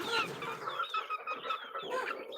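Pampered pet hens cluck close up in a run of short rising and falling calls, several quick notes following one another with small pauses, clear and fairly loud with no talk over them.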